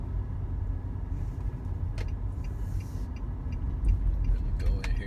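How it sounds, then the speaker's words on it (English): Car driving on a road in China, a steady low engine and road rumble heard from inside, with a faint clink near the middle and the rumble swelling slightly toward the end. "Let me go in here and park the car."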